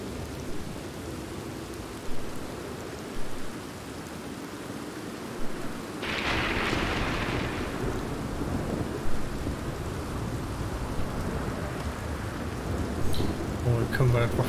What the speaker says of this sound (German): Mitten im Regen.